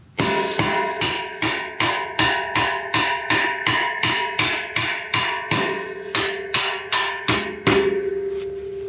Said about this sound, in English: give it a little tap with the hammer